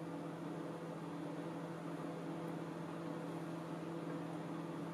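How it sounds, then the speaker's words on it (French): A running microwave oven gives a steady, moderately quiet hum with a constant low drone and broadband whir, unchanging throughout. "Je démarre le four."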